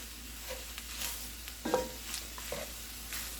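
Onions frying in a pan for homemade tacos, with a soft steady sizzle broken by a few spoon stirs and light scrapes near the pan, no talk.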